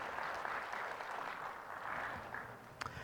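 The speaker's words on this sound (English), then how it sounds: "So please give another round of applause, and we'll get it going." Fairly quiet applause from a tech conference audience welcoming a speaker on container security, a short steady patter of many hands that thins out toward the end.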